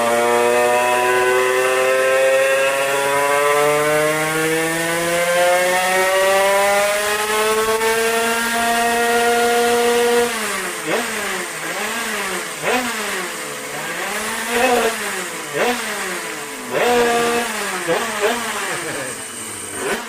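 A small 70cc two-stroke moped engine on a test bench revs up and holds a steady rising whine, then blips up and down in repeated sharp throttle bursts, loud and close.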